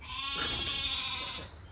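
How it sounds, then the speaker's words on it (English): Goats at a flea market give one drawn-out bleat lasting over a second, close and fairly loud, with a busy outdoor murmur behind it. "There's some goats over here."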